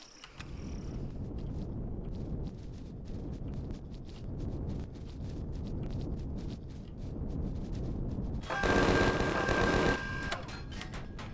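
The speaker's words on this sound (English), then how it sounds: "We are taking fire. I'm unable to raise my guns to fight the minigun, though." Minigun fire in the sci-fi survival game Empyrion Galactic Survival: a dense, rapid mechanical rattle runs steadily throughout, swelling into a louder, harsher burst near the end.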